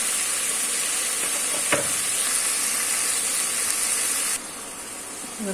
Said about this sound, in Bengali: লাড়াচাড়া দিয়ে একটু কষাইয়ে, মশলাটা যত কষাবেন তত ভালো